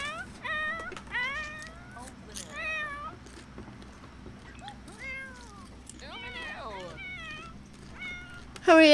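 A cat meowing close by in a series of rising and falling cries, some short and some drawn out, with brief pauses between bursts and a faint room hum behind.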